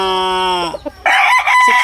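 A Boston bloodline gamecock crows close by, one loud harmonic call that breaks off and then resumes in a harsher, rising final note.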